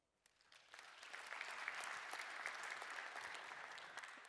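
An audience claps at a design talk at the Front 2017 conference. The sustained crowd applause swells quickly, then holds steady and fills the room, with no voices over it.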